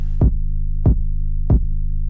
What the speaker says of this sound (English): you only can hear pretty much the sine wave a little bit because of what's being cut off